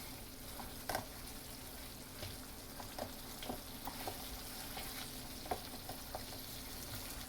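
Beef tibs and vegetables sizzle quietly in a pan while being stirred, a steady soft frying hiss broken by scattered clicks and scrapes of the utensil, close up and without talk.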